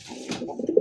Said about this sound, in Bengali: ভাই এই মুহূর্তে ভাই একজোড়া কবুতর দিতেছে ডিসপ্লেতে, দেখেন খাকি কবুতর